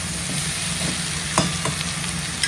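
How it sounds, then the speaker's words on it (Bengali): Garlic and green chili sizzle in hot oil in a pan, a steady close crackle broken by a few sharper spits and stirring scrapes, with no talk. "সুন্দর করে লাল লাল করে কষবো। ওইটা একটু ভালো করে ভাজা করে নেব।"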